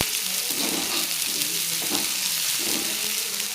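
Bitter gourd pieces coated in tikka masala fry in a pan with a steady, close sizzle and soft bubbling that swell and ease in gentle waves, with no voices.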